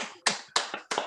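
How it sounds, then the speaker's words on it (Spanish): A few people clap at a sustainable bioarchitecture talk, giving three or four separate, sharp bursts of handclaps close by, with no one talking. "vamos a aplaudir todo esto"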